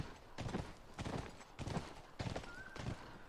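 Horse hooves clip-clop in The Last of Us video game, several clear bursts of steps in a regular rhythm, fairly close, with a brief tonal game sound partway through.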